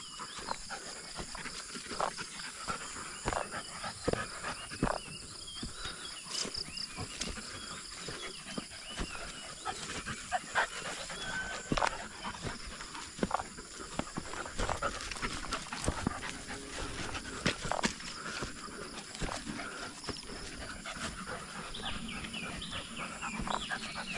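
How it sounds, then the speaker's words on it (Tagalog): Dogs panting outdoors on a farm, a continuous rapid breathy rhythm with scattered clicks and faint background animal and bird sounds, moderately close and fairly quiet. "Masaya yung mga aso natin basta makalabas sila."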